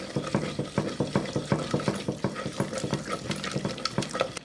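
Salt and vanilla are stirred into Filipino coconut jam, a utensil scraping around the pot in a steady, quick rhythm of close, repeated strokes, with no talking.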